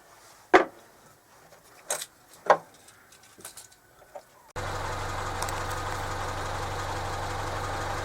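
A car engine starts abruptly partway through and then idles at a steady, even drone. Before it starts, a quiet yard is broken by a few scattered clucks from a chicken.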